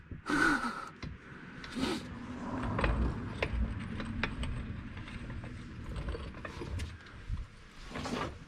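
A jack is worked under a vehicle in a shop, giving repeated mechanical clicks and ratcheting clanks at close range, with occasional breaths and faint movement around it.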